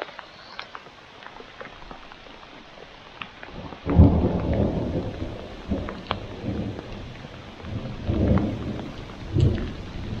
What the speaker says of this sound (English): It was raining pretty good there for a minute.